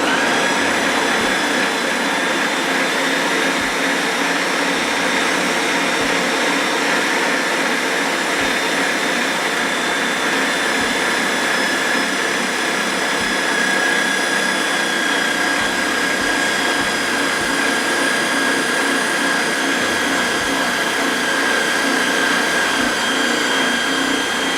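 Ninja blender running on its mix setting while blending cheddar mashed potatoes: a loud, constant motor whine with a churning drone that holds steady from start to finish, with no talking.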